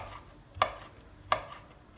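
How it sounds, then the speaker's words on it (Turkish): A knife cutting offal (kidney, liver and heart) into thin strips on a board for Cretan-style mumbar, two crisp chops about a second apart, close and distinct in a quiet kitchen. "şöyle şeritler halinde doğruyorum"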